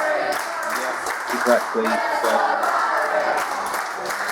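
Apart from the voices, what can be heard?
wrestling crowd cheering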